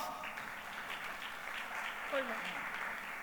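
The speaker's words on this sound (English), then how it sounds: "please give them a big round of applause" Audience applause at a corporate inclusion summit session, a steady broadband wash of many hands clapping throughout at moderate level, fairly distant with crowd noise beneath.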